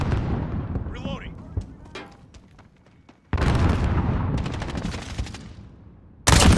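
Gunfire from a gun in Call of Duty: Modern Warfare, loud rapid bursts of shots starting abruptly, a pause, then another sharp burst, with clatter and a voice talking over parts of it.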